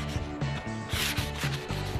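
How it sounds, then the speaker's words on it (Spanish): Sandpaper rubs over chalk-painted furniture in a few quick back-and-forth strokes, a close, rough scratching that rises and falls in a steady rhythm without talk. "Porque todavía tiene mucho que lijar esta lija."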